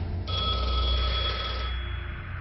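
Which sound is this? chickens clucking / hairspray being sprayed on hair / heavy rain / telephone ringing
telephone ringing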